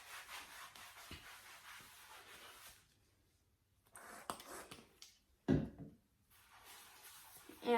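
St. Tropez self-tanning lotion is rubbed onto a bare leg in circular motions, giving faint, close, soft swishing strokes that stop briefly midway and then resume.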